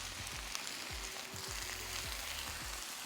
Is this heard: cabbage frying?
yes